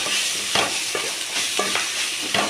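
Curry leaves and drumstick leaves frying in a pan, a constant sizzle broken by regular scraping stirs of a spoon.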